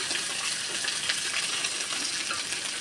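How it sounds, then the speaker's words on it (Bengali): Ginger fries in hot oil in a wok, giving off a bright, continuous sizzle with crackling spatter, steady and close with no voices. "এবারে কড়াতে তেল দিয়ে দিচ্ছি, দিয়ে আদা দিচ্ছি"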